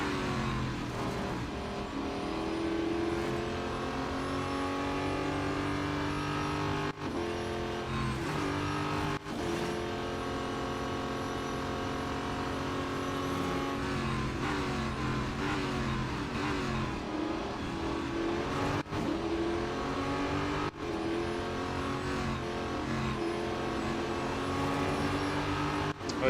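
Race car engine from the mobile racing game Real Racing 3, running at high speed, loud and continuous with rising and falling revs through repeated gear changes over the whole stretch, no voices.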